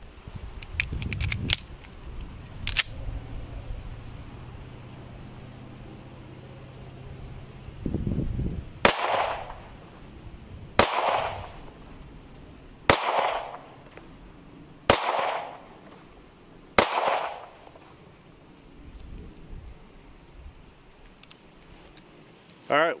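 Gunshots from an FN 503 Compact 9mm pistol firing S&B ammunition at an outdoor range, five sharp evenly spaced shots with fading echoes, preceded by some handling clicks and background noise.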